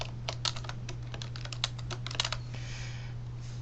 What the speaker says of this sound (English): So they type their paper here,